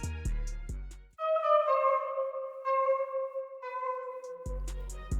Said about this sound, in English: This sound kind of sounds like a harp.